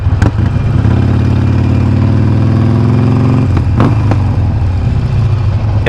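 A Harley-Davidson Forty-Eight motorcycle with Shark Road slip-on exhaust rumbles loud and close, revving up in a rising pitch, then dropping back to a deep idle with a couple of sharp pops.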